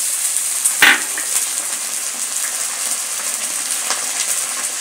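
Ginger garlic paste sizzles in a pan of fried onions for a dry fish dish, with a steady loud frying hiss and a sharp clatter as the paste goes in.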